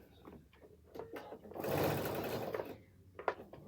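A reconditioned PFAFF Performance 5.0 sewing machine stitching denim in one steady, loud, whirring run of about a second, with soft handling clicks before and after.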